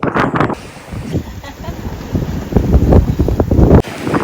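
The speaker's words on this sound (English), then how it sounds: "I think there's about 15 knots of wind coming from, it's like more north than normal as well." Wind buffets the microphone aboard a sailboat off Oahu in roughly 15 knots of breeze, a loud gusting rumble that rises and falls, with voices talking over it.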